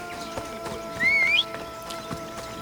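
Horse in the video game Assassin's Creed Odyssey, with a short rising neigh over soft clip-clopping hooves, close and moderately loud.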